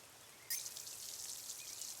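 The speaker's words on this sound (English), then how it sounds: "Now it just looks like it's just the rain sounds" Rain in The Good Life video game starts abruptly and then hisses on as a steady, soft bright patter, fairly quiet and without voices.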